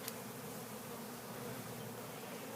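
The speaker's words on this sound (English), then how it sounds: "lots of bees in the air" Many bees swarming on a cedar tree hum together in a thick, unbroken drone, nearby and fairly loud, with no talking.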